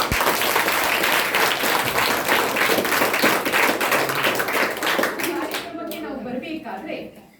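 A school audience applauds its teachers with loud, rapid, sustained clapping from many hands, which thins out and fades toward the end.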